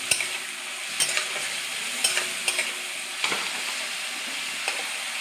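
Spices and green chilies fry lightly in a pan for potol dorma, giving a constant soft sizzling hiss with a few faint utensil taps and no voices.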